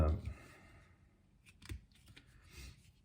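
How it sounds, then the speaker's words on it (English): A brief voice at the start, then a few sharp, quiet snips and clicks from a PEX pipe cutter, spaced apart. "Take your little cutter, PEX cutter tool,"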